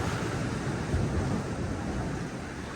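Calm sea lapping gently on a beach at night near Cromer and Overstrand in fog, small waves giving a steady soft wash with a little wind rumble, no voices.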